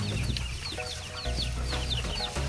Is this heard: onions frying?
no